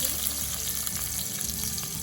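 Whole cumin and a broken bay leaf sizzling steadily in hot oil as tempering for Bengali cauliflower curry, a continuous close frying hiss with no speech.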